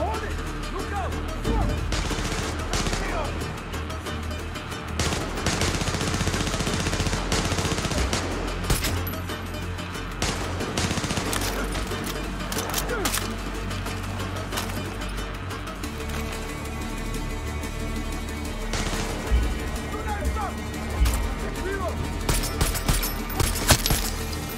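Rapid gunfire bursts and explosions from the Far Cry 6 video game crackle across a dense, busy battle soundscape with steady game music and effects, shots loud and near, repeating throughout.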